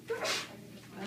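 One sharp, close sneeze bursts out during an anatomy lecture, brief and loud against the quiet room.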